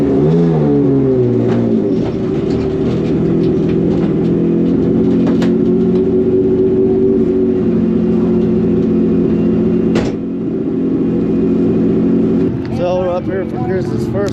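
A drag race car sits in qualifying against a GTR, its engine held at a loud, steady high drone after an early rising rev, with brief talk near the end.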